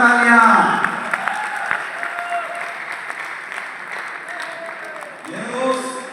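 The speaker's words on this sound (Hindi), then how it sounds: "जोरदार तालियां।" Loud applause fills a seminar hall, rising at the start, thinning into steady clapping through the middle and swelling again near the end, with a voice heard briefly at the beginning.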